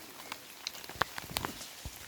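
Rain falling over an apiary, a soft steady wash of drops with a few sharper taps standing out, quiet and close with no one talking.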